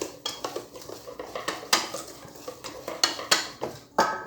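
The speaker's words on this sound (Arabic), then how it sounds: "صافي كنحركها عاود مزيان." A utensil stirs apple tart batter in a bowl, giving a series of sharp scraping clinks against the bowl at an uneven rhythm, close and clear with no talking.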